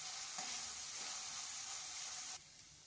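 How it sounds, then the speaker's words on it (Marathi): Chopped onion frying in a pan for soybean keema, a steady close sizzle with a brief stir near the start, dropping slightly quieter toward the end. "कांदा पहिले आपल्याला फ्राय करायचा आहे चांगला।"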